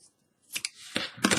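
Scissors snip through paracord for a stitched modified side step bracelet, two or three quick close cuts in a brief burst with no talking.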